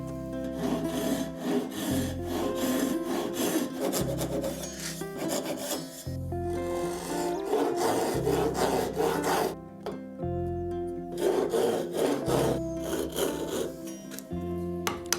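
Hand saw cutting wood for a half-blind dovetail joint, steady rasping back-and-forth strokes in repeated bursts with brief pauses, close and fairly loud, no talking.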